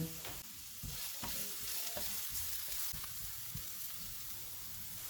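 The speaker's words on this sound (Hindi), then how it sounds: "1/4 कप प्याज डालेंगे। इनको 2 से 3 मिनट तक भूनेंगे।" Chopped onions and garlic sauté in oil over low heat, with soft, faint sizzling and intermittent scraping stir strokes close by.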